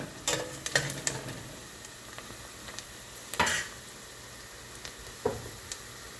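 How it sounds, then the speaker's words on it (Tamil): Onions frying in a pan for a quick mutton gravy, with soft clinks and stirring scrapes of a utensil standing out over a faint, steady sizzle. "இந்த ரெசிபிக்கு ஆனியன் கொஞ்சம் ஃப்ரை ஆகணும், கொஞ்சம் ஃப்ரை ஆகட்டும் எக்ஸ்ட்ரா"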